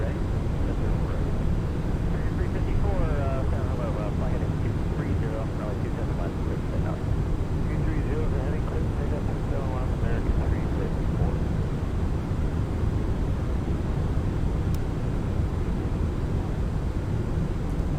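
Toliss Airbus A340 engines in X-Plane 12 approaching San Antonio, a steady broadband roar holding evenly throughout, with faint talk heard beneath it.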